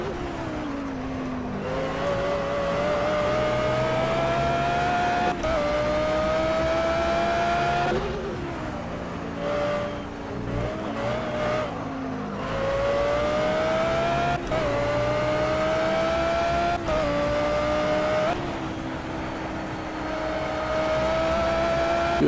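GT3 race cars in the Project Cars racing game on Xbox One, with a loud, continuous engine roar that climbs steadily through the gears, repeatedly dropping at upshifts and easing off briefly mid-run, with no talk.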